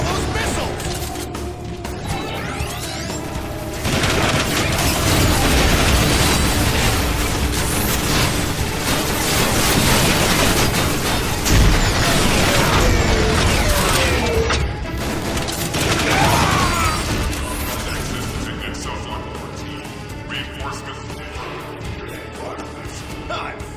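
Missile barrages and explosions in the video game Transformers: War for Cybertron, a loud, dense and continuous stream of rapid impacts, blasts and mechanical clatter throughout, with a voice occasionally mixed in.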